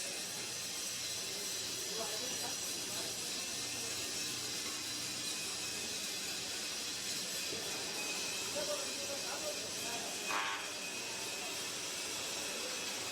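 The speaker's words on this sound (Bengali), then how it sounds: "এটা প্লেট কাটিং।" Steady, broad hiss of metal plate cutting at a welding training and testing center, continuous and fairly loud throughout, with faint clanks and voices in the background.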